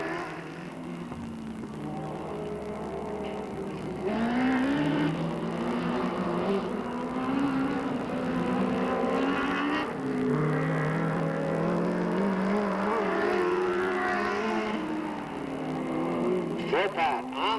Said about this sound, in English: Cars set for 5 laps for their heat